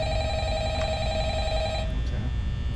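An electronic telephone rings steadily in Five Nights at Freddy's, a sustained tonal trill over low rumbling background hum, cutting off just before the end.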